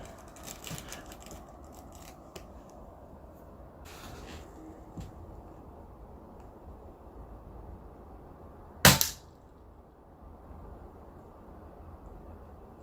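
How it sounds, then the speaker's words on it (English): An air rifle fires a single sharp, near pellet shot that strikes a spoon with a quick crack, standing out against a quiet background with faint handling noises. "So I'm going to just take a shot at the spoon."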